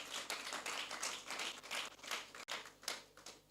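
Audience applause at a sales training seminar for realtors, a dense continuous patter of many hands clapping at moderate loudness throughout, with a brief dropout near the middle.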